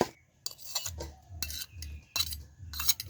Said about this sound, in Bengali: কাঁটা চামচ দিয়ে একটু খুব ভালোভাবে ম্যাশ করে নিতে হবে